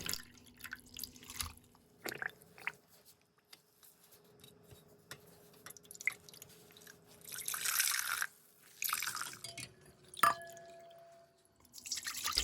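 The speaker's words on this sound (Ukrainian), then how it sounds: "Тепер проціджую через марлю і добре відтискаю." Dandelion infusion drips and trickles in short bursts as cheesecloth is squeezed, with a few sharp clicks and splashes between quieter pauses.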